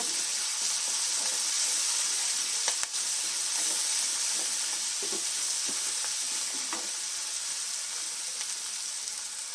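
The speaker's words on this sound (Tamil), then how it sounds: "புதினா, மல்லி, நல்லா இஞ்சி பூண்டு பச்சை வாடை போகிற வரைக்கும் வதக்கிக்கோங்க." Steady sizzling of mint, coriander, ginger and garlic sautéing in a pan, with occasional stirring scrapes and clinks over a constant hiss.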